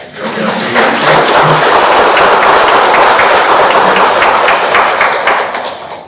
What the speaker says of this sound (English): This way, give yourself a clap.